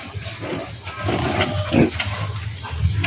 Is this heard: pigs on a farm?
yes